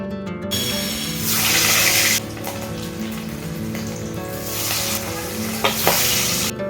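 Hilsa fish frying in a pan, a loud close sizzle that swells in bursts and crackles, with a few stirring knocks near the end and no voices.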